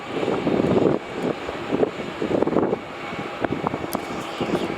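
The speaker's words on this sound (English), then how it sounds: "As we pan over to the Virgin Australia, now on short final runway 16." A Virgin Australia airliner on short final approach to runway 16 at Melbourne Airport rumbles at a distance, a low engine roar that swells and fades with wind buffeting the microphone.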